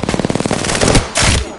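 Rapid automatic gunfire in the video game Apex Legends, a close loud burst of evenly spaced shots followed by a heavier blast and a short tail.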